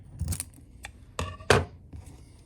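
A worry doll's arm is trimmed to length during a craft project, giving a few sharp, close snips and clicks spaced over a couple of seconds in an otherwise quiet room.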